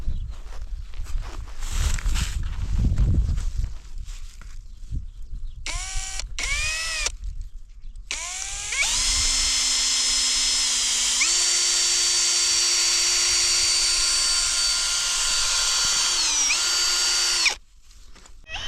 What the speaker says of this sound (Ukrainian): Це вже друга дирка і поміняли друге свердло